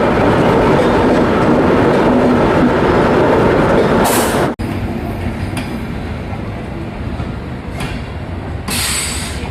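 The Mumbai Mail passes, led by a Pune-based WAP7 locomotive, heard from aboard a moving Amrit Bharat Express. The roar is loud and steady, with rushing wheels and clattering rails, a sudden jolt midway and brief hisses.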